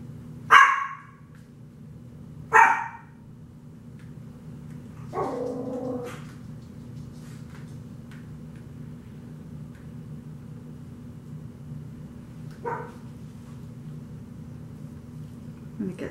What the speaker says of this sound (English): Dogs are barking now